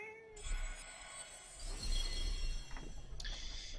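A cat meows in the video game Forspoken, a drawn-out cry heard faintly over a steady game soundscape with music and ambient tones.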